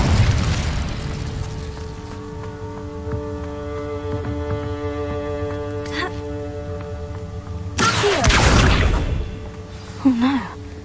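An Incendio fire spell cast in the video game Hogwarts Legacy bursts out as a sudden loud whooshing blast partway through, over sustained game music, with a brief voice sound shortly after.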